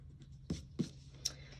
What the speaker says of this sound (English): so I'm going to erase that.